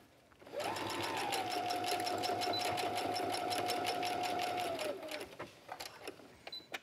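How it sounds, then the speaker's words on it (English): A sewing machine back stitches across the top of a mesh tote bag, a steady close whirring run of about four seconds with a high whine, then stopping into faint handling noises. "When you get to the top, I like to go across that top and back stitch a couple of times"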